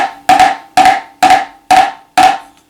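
Five loose, uncontrolled flams are struck on a snare drum at a steady pace. Each one is a doubled, smeared attack with a buzzing ring that fades before the next, loud and close.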